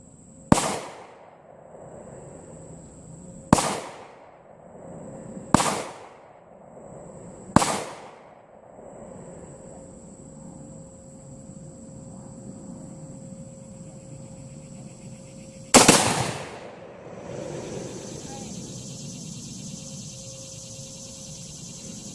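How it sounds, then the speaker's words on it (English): A CVA Hunter rifle fitted with a new scope fires five sharp shots outdoors, four in fairly quick succession and a final one after a pause, each with a short decaying echo over a steady high whine. "Here goes the first shot in it."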